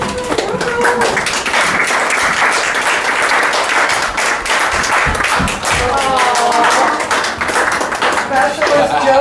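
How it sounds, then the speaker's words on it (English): Family and guests at an eighth-grade graduation clap loudly and rhythmically to welcome home a soldier brother, with sharp close hand claps mixed with voices and cheering throughout. "Maybe he needs a good clap."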